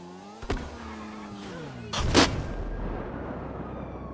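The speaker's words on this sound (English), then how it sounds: "He's throwing grenades." Grenades go off in the FivePD police video game: two explosions, a short sharp blast followed by a louder, longer boom about one and a half seconds later, over a steady engine drone.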